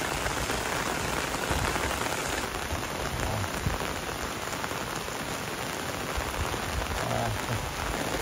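Heavy rain pours down without a break during a motorcycle ride on a muddy road, a loud, dense, hissing wash of drops spattering close by across the whole stretch.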